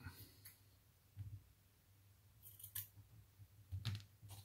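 Scissors snipping material to trim a bohemian Scandinavian-style Christmas wreath: a few crisp, quiet cuts spaced a second or so apart, close up and otherwise near-silent.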